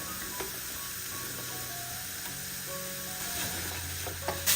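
Samosa filling being stirred in a hot pan, with a steady low sizzle and scraping spoon strokes throughout, a few sharper clinks near the end, no voices.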